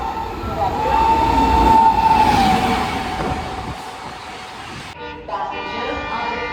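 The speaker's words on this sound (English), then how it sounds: "A fast train will be passed from platform" A train rumbles through Bhilad railway station platform, a loud, steady roar that swells, then eases and cuts to a lighter clatter near the end, with a tonal whine along the way.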